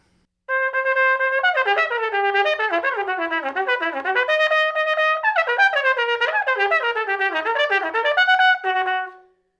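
Bitsch Etude No. 3 played at full tempo on a solo wind instrument, with no instrument named. Fast, agile runs of clear, bright notes sweep up and down without pause, loud and close, with no talking.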